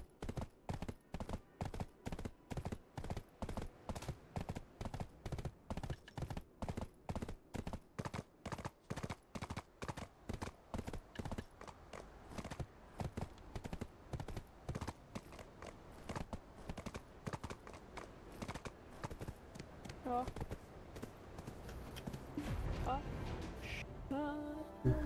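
Horse hooves in the video game Black Desert, steady rapid clip-clop beats that loosen into a busier galloping rhythm, moderately loud with faint game sounds and voices underneath.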